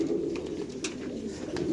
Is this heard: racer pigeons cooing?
yes